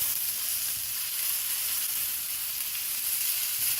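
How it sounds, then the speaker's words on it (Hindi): Chopped onions fry in a pan for a pizza sauce pasta, a steady close sizzle and hiss with no breaks and no talking. "ये मैं प्याज डाल रही हूँ। इसको भी थोड़ा सा फ्राई करेंगे।"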